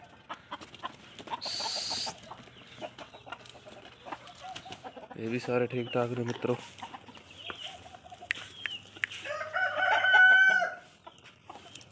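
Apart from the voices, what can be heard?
chickens clucking and rooster crowing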